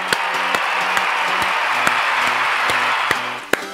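Applause for teams taking part in a mathematics competition, continuous group clapping with a few sharper individual claps standing out and a repeating tonal beep pattern running underneath.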